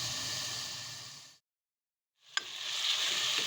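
Ground spices for mutton karahi sizzle in hot oil with a steady hiss, cut off by a short silence, then a sharp clink before the frying resumes.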